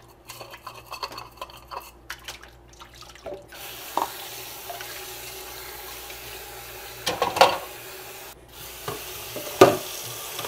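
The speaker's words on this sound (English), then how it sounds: "get in there and really scrub the sides" Veken pet fountain parts scrubbed under a running tap at a sink, steady water flow with brushing and rubbing, a few clunks and splashes as pieces are handled up close.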